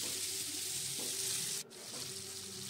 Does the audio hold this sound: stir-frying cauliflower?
yes